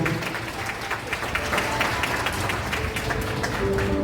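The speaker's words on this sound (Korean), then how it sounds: "그럼 박수 부탁드립니다." Wedding guests in a wedding hall break into steady, continuous applause after the groom's ring kiss, dense clapping filling the room at an even level for several seconds.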